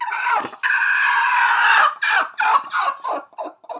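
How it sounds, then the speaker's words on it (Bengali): A brooding hen, lifted off her eggs, lets out one long, loud protesting squawk close by, then a run of shorter, choppy clucks that grow fainter. "প্রথমে আমরা এই মুরগিটাকে ডিম থেকে উঠিয়ে নিব"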